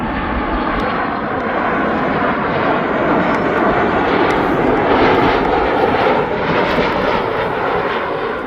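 Ryanair airliner arriving on the Cork flight from Ireland at East Midlands Airport, its jet engine roar loud and steady throughout, swelling slightly mid-pass with broadband rumble and no talk.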